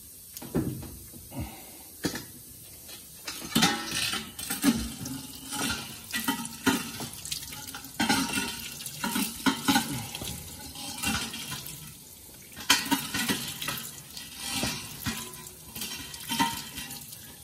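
Water splashes and runs in repeated bursts while a bull's penis is washed clean of crust, with scattered knocks and sloshing over about seventeen seconds.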